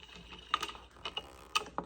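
A hand ratchet clicks in short bursts while undoing an 8mm bolt holding the horn on a Beta 300 R dirt bike, faint close ticks with a couple of sharper metallic clacks and no talking.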